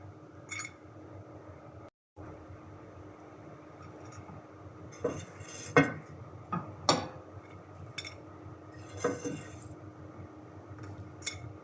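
Crispy chicken pizza bites are lifted out onto a plate, giving a few distinct clinks and taps of utensil against dishware amid quiet kitchen background.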